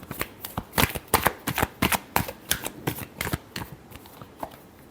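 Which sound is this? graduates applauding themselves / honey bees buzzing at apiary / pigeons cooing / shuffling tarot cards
shuffling tarot cards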